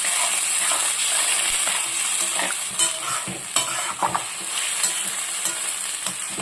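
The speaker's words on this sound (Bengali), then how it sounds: "অল্প একটু জল দিয়ে দিলাম বন্ধুরা, দিয়ে ভালো করে এটা মিক্স করে নেব।" Boiled potatoes for Bengali aloo dum, just topped up with a little water, are stirred in the pan, producing a continuous close sizzle and hiss broken by several sharp scrapes and knocks of the spoon; no voices.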